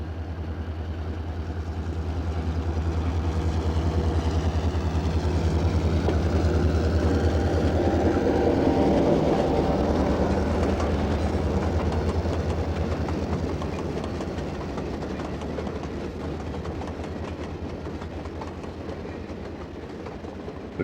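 An Amtrak Southern Crescent passenger train rolling along the rails, a loud low rumble with rhythmic wheel clatter that builds as it passes close by, then slowly fades away.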